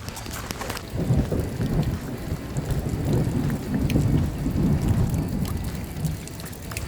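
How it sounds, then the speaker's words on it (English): Thunderstorm over a farmhouse brewery in rural North Tipperary near Lough Derg, with heavy rain hissing and low rolling rumbles swelling after the first second and holding loud throughout. "We are in the middle of a storm."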